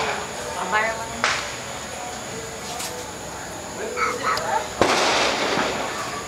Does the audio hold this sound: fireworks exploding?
yes